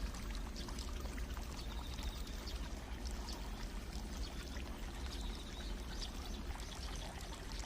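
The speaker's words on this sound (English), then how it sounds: "A continuous stream of spring water is piped right into a basin, so fresh water is always available." Spring water piped in a steady, unbroken flow into a basin at a Japanese satoyama water garden, a loud, close, continuous splashing pour with no voices.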